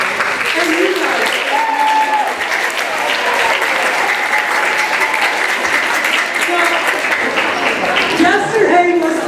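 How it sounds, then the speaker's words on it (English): Sustained applause from a large crowd at a school band concert, steady and loud throughout with a few voices and cheers mixed in. "please let's give them a round of applause"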